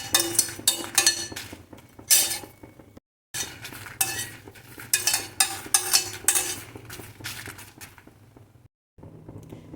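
Curry leaves and chillies being sautéed in a pan for idly podi, with rapid repeated clinks and scrapes of a metal spoon against the pan, close and busy, broken by two brief silences.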